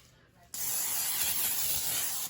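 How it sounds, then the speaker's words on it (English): A can of nonstick cooking spray sprays into a casserole dish for king ranch chicken casserole, a single close, continuous hiss of nearly two seconds that starts abruptly after a brief quiet moment. "We're going to spray it with some nonstick spray."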